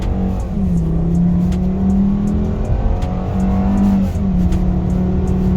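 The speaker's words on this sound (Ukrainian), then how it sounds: "Давайте спробуємо від нуля до сотні, як вона поїде." Volkswagen Jetta 2013 with a 2.5 automatic accelerating from a standstill to 100 km/h, engine tone climbing steadily, dropping at each gear shift and rising again, loud and close with no talk.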